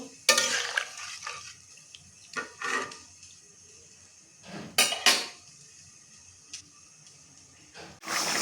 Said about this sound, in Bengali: ঝোল দিয়ে দিয়েছি, এবার একটু নাড়াচাড়া করে দেবো।